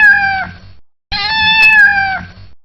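A domestic cat gives two clear, close meows, the first shorter and the second longer and slightly strained, separated by a brief silence.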